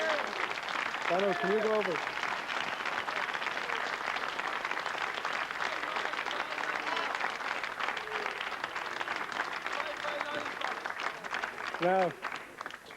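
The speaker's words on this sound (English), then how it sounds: "maybe all you people could give them an enormous round of applause" Applause from a TV studio audience at a live music broadcast, a steady dense crowd roar lasting throughout, with a presenter talking over it near the start and again near the end.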